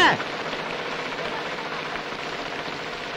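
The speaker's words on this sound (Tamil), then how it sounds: "ஆத்தா மழையை பெய்ய வைக்கல, நான் தான் பெய்ய வைக்கிறேன்." Steady rain falling on a surface, a dense continuous hiss with a brief louder onset, no clear talk.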